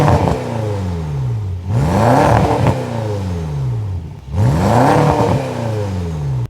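A 700HP BMW with a newly fitted exhaust revs loudly up close in two big sweeping bursts, the engine note climbing sharply and falling back to idle between them.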